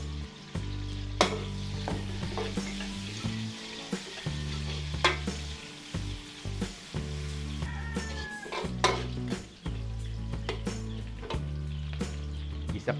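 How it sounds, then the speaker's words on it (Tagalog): Onions added to a hot pan for Filipino home cooking, a steady loud sizzle with repeated stirring scrapes and clinks of utensil against pan, a low hum underneath, continuing without speech. "Lagyan na po tayong sibuyas."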